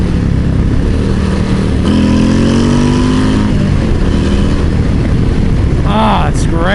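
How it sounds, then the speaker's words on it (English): A Harley-Davidson Low Rider ST motorcycle fitted with a 131 Screamin Eagle engine gives a loud, deep engine rumble with rising and falling revs, under someone talking close by. "Oh yeah, should be making all the good Harley noises."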